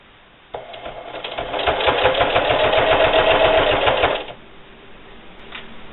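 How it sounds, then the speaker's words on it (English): A sewing machine stitches bias binding onto thick fabric for a tortilla warmer. It runs in a steady, rapid burst of close, loud needle strokes for nearly four seconds, then stops. "I'm going to go ahead and sew this bias binding on and back stitching at the beginning and the end"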